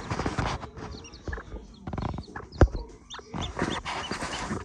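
A hen clucks close by amid faint peeping from five newly hatched chicks, with intermittent scratching and shuffling noises and one sharp knock partway through.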